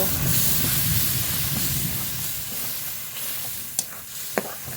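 Spice paste for a desi duck curry sizzles and spatters in hot oil as it is stirred and fried, a steady close hiss with a few sharp clinks of the spatula near the end.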